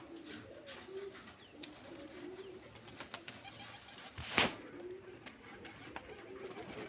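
Pet pigeons let out of their coops into the sun coo softly in low, rolling phrases, with a single sharp knock midway and otherwise quiet surroundings.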